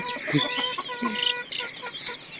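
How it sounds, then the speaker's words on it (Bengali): A flock of young chickens peeping and clucking close by, a busy overlapping chorus of high chirps with a few lower clucks, continuous throughout. "দেখা যাচ্ছে আমাদের সেই মুরগির বাচ্চাগুলা"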